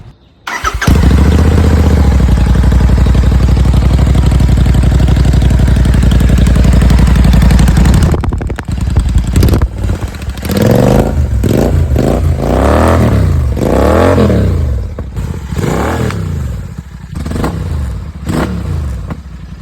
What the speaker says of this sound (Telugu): ఇప్పుడు సైలెన్సర్ లేకుండా ఏ విధంగా సౌండ్ ఉంటుందో కూడా ఒకసారి మనం చూద్దాం